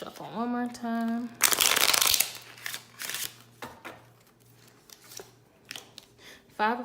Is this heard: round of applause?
no